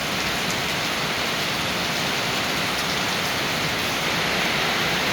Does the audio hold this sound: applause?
no